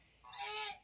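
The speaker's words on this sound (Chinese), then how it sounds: "本来鹅还是比较好抓，但是我也抓不到" A farm goose gives a single short, nasal honk, fairly faint and close, rising out of quiet background.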